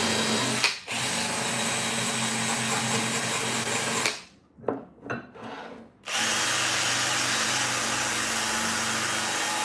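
Power drill fitted for scrubbing rust off a weapon, a loud steady whirring grind that briefly cuts off near the start, stutters through several short stops and restarts midway, then runs on continuously.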